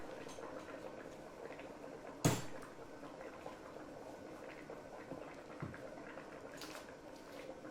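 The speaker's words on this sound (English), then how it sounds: "boil some water that I can cook these noodles in" Water for cooking noodles simmers in a pot, a soft continuous bubbling at low level with one sharp clatter partway through and a few faint knocks.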